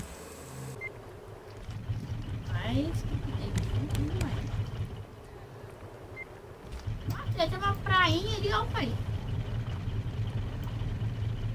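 Boat motor starting on open water and then running steadily, a low continuous engine drone close by with people talking over it.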